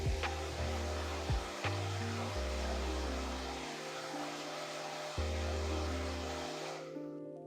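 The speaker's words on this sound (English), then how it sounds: "get your blow dryer and kind of dry that tint out" A blow dryer runs on hair in a salon setting, a loud steady whirring drone with a couple of brief pitch shifts before switching off at the end.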